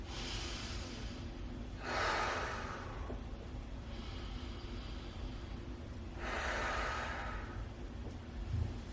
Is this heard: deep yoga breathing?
yes